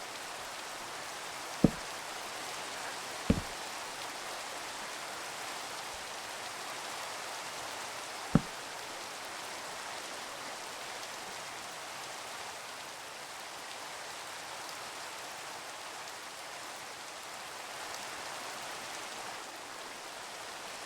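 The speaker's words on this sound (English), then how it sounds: "We go with the damn rain again" Steady rain in the Minecraft video game hisses evenly throughout, with a few sharp clicks standing out near the start.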